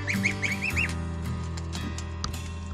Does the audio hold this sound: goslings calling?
yes